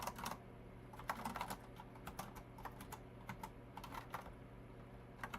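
Clicky computer keyboard typing in irregular bursts of quick keystrokes with short pauses, close but quiet in an otherwise still room.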